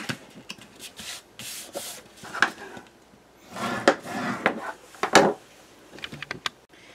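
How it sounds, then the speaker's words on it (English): Scored paper being folded by hand for a divider folder mini album, giving close crisp rubs, creases and rustles in irregular bursts with quiet pauses between. "this guy with this fold on the outside has another score line and we're just going to fold it up"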